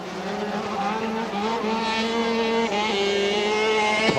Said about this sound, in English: Shannon Etheridge coming around Yamaha corner now to pick up the last lap board.